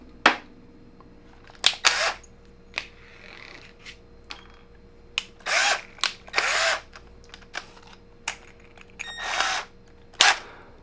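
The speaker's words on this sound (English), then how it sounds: "I'm going to drill 1/4 inch holes in it" Power drill boring quarter-inch holes into a rifle cheek riser, heard as a series of short bursts of drilling, some brief and some longer, with quiet pauses between them, close and fairly loud.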